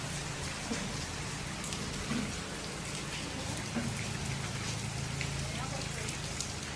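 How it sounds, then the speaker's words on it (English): Heavy tropical rain drums steadily on the roof of a car during the Zanzibar rainy season, a dense, constant hiss of close raindrops with occasional heavier splats and faint voices underneath. "Rain from the heavens."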